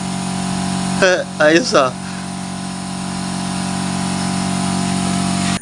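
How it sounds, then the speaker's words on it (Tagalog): An upgraded electric power sprayer pump rated at 8 liters per minute open flow runs with a steady, even motor hum that continues throughout, and someone speaks briefly near the start. "Para naka-power sprayer mga ka-DIY sa lakas oh."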